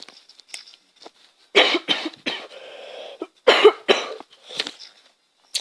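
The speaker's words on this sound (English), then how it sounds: "Just coughed there." A person coughs in several sharp, close bursts, scattered irregularly among quieter breaths and a brief throat-clearing rasp, with no talk.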